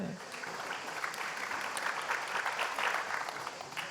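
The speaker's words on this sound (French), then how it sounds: "et qui vous vaut même des applaudissements" Audience applause at a conference session, a steady, even wash of many hands clapping, moderately distant and sustained throughout with no break.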